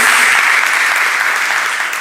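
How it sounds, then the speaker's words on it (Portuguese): Sustained applause from a congregation at a church graduation ceremony, dense and steady throughout, with faint voices beneath. "Palmas para ela"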